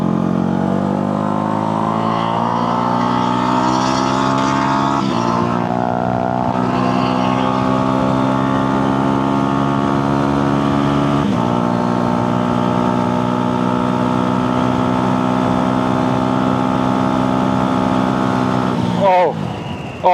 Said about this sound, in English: guys can just listen to the 125 engine zooming